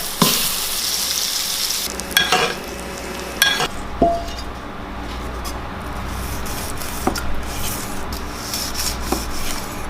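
A steak sears in a hot pan with garlic paste, black garlic flaky salt and butter, giving a steady loud sizzle that runs the whole time. Several sharp scraping and clanking bursts cut in early on, and no one speaks.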